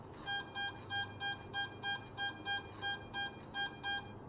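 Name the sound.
NEL Snake coil metal detector high tone at 6 inches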